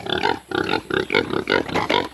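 Hungry farm pigs grunting and oinking close by in a quick series of about six short, rhythmic bursts.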